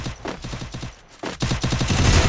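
Gunfire in the video game Free Fire, rapid bursts of shots in quick rhythmic volleys, a short pause, then more dense fire, loud and close with no talk over it.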